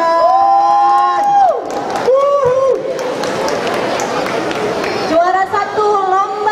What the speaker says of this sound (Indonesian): Tepuk tangan untuk juara dua.